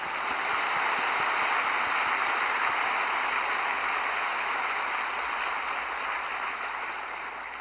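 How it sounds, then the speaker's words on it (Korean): A church congregation claps together, a dense, steady wash of applause sustained throughout and tapering slightly at the end. "그러므로 우리 하나님께 한 박수를 치십시다"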